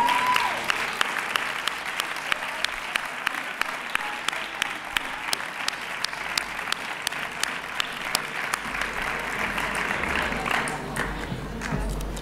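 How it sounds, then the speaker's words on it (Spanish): Sustained applause at a sports awards gala in San Sebastián de los Reyes as a team goes up for a photo; a dense wash of clapping with a few sharp, distinct claps standing out close by. "Arriba, fuerte el aplauso."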